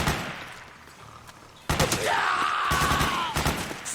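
Dense gunfire from a firefight in the video game Metal Gear Solid 4, with loud rapid shots for the second half and a rising whine over the volleys, after a quieter stretch at the start.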